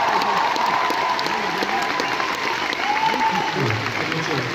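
A film festival audience applauds in a dense, sustained burst, with scattered cheers and voices mixed into the continuous clapping.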